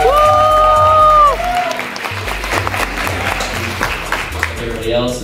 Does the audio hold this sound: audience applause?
yes